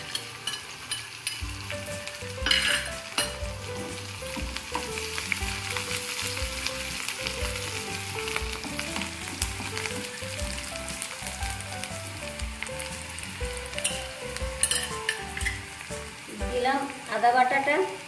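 Sliced onion and minced garlic fry in a pan with a steady sizzle and occasional stirring scrapes, heard together with melodic background music throughout.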